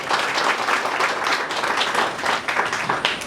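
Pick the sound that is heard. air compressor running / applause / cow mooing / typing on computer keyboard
applause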